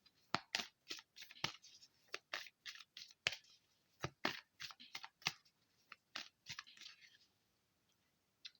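Tarot cards are shuffled by hand in close, quiet, irregular bursts of crisp slapping and riffling clicks, sometimes in quick clusters, with a short pause near the end and no speech.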